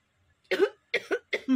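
A person gives a few short, dry coughs to clear the air passage, one cough followed by a quick pair and a final throaty one, close and isolated in quiet.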